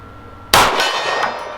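A pistol bullet, fired from a Dan Wesson DWX Compact, strikes a steel gong target at a shooting range: one sharp metallic clang that rings on and slowly fades, heard alone without voices.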